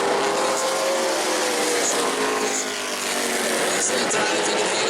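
Modified race cars run at New Smyrna, a steady loud engine roar from the pack filling the scene continuously, with a commentator talking over it.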